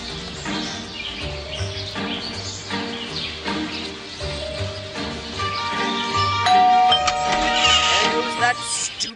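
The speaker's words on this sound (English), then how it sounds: "stupid bell again" A bell chimes in Scary Teacher 3D, bright ringing tones sounding near the end over a busy background of game music and effects, fairly loud and close, with a voice talking earlier.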